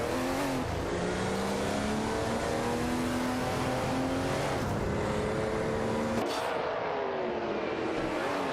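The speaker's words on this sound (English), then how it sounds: "Let's rev those engines." Race car engines rev and roar continuously in a racing video game, loud and sustained with rising and falling pitch as cars accelerate and shift, a layered dense engine drone throughout with no talk.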